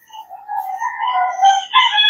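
A rooster crowing nearby on a rainy morning, one long rising and falling cock-a-doodle-doo call, loud and clear with no talking over it.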